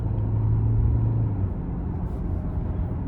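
A 2025 Hyundai Santa Fe Hybrid SEL with a turbocharger pulls away under light throttle in eco mode, giving a steady, loud low engine-and-road rumble with a brief tonal hum early on and no talk over it.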